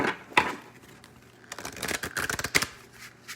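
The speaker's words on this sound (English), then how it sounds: "So we shuffle." A deck of chakra oracle cards is shuffled by hand, with soft riffling and flicking bursts that are quiet at first and build into a busier, crackly run of card slaps near the end.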